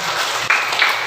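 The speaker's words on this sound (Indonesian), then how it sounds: "Tepuk tangan semua." Classroom applause called for by a teacher, a broad steady wash of clapping lasting about a second, fairly loud and close with no talk over it.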